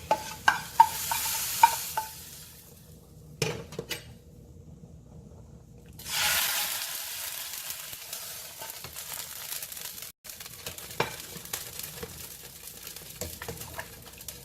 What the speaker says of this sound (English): We're going to dump the fried garlic into it.